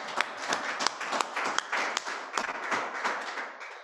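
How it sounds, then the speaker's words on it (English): Applause at an evening poetry gathering, a small audience clapping in a steady patter of distinct individual claps, fairly close and lively, with no talk over it. "So I would really like to give a round of applause to the Civil Rights Heritage"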